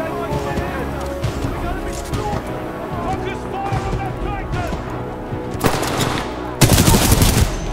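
Supporting gunfire in the video game Titanfall 2, heard as sustained machine-gun bursts with heavier blasts building toward the end, under a voice speaking throughout.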